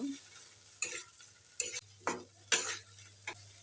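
Spice gravy for fish Manchurian frying in a pan, low faint sizzle broken by several sharp scrapes and clinks of a spoon stirring against the metal, with no talking.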